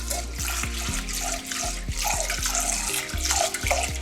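Tap water runs steadily into a pot while rice is rinsed for an egg curry, a close, continuous splashing stream with faint knocks from handling.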